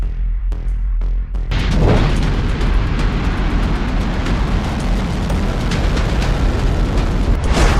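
A North Korean missile launches with a deep, roaring rush that starts after a few short thumps and then holds as a loud, rumbling, crackling blast for several seconds.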